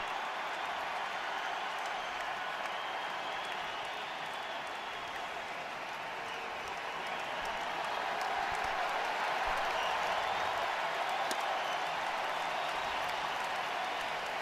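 A sellout crowd at a Yankees–Blue Jays baseball game applauds steadily, a broad wash of distant clapping and murmur that swells slightly midway and holds for the full length.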